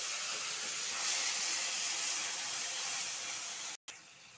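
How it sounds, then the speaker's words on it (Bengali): Cloves, cinnamon, cardamom, bay leaves, chopped tomato and chilli fry in hot oil, making a loud, continuous close hiss that cuts out abruptly near the end. "তেলটা গরম হয়েছে, লং দারচিনি এলাচি ঢেলে দেব, দুইটা তেজপাতা, টমেটো কুচি আর লঙ্কা কুচিটা ভেজে নিব।"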